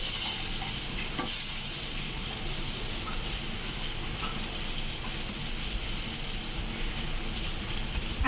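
Dried chillies frying in a pan at home, a dense continuous sizzle and crackle with a faint ratcheting texture, steady and close throughout with no talk.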